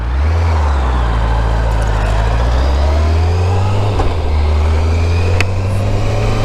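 A 1988 Kawasaki ZX10B motorcycle engine runs steadily and loudly close to the rider, a continuous low drone that swells slightly as it revs, with wind rush over it.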